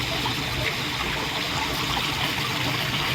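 Garden waterfall flowing among tulips on a small farm, a dense continuous rushing and splashing that stays loud and even throughout with no voices.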